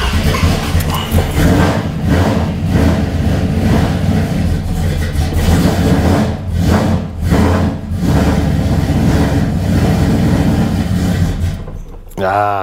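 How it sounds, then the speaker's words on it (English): A carbureted car engine revs up as the throttle is opened, running loud and steady throughout before it stumbles and nearly dies near the end, with someone talking over it. "Let's give it a little gas."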